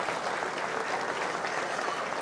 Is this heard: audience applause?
yes